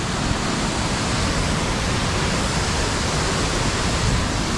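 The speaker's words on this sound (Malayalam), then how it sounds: "അടിപൊളി വെള്ളച്ചാട്ടം" A Meghalaya waterfall, Rainbow Falls, pours in a steady, dense roar of rushing water that fills the whole clip at constant loudness, with no voices over it.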